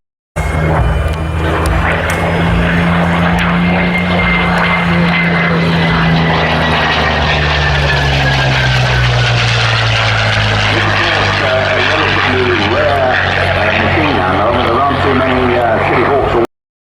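A Curtiss P-40 Kittyhawk fighter with an Allison engine roars past at an air show, its propeller drone loud and sustained throughout, pitch sliding lower as it passes and moves away.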